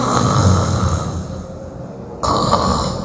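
A man imitates snoring with his voice, giving rough, rattling snorts during a morning religious talk. The sound is close and loud, then a short pause follows.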